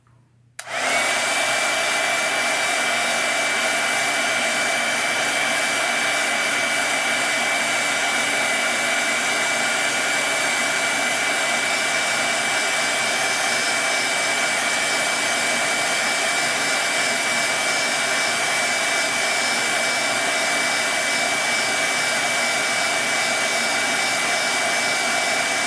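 Hair dryer switched on to dry a painting before its background is added, kicking in abruptly after a moment of quiet and then roaring loudly and steadily with a thin constant whine, alone without voices.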